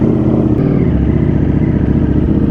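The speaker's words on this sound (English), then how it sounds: "Back for another morning commute on the 208 horsepower Streetfighter. Let's get this thing started and wake some neighbors up." A 208 horsepower Streetfighter motorcycle engine idles loud and close after starting, with a steady deep rumble and mechanical clatter throughout.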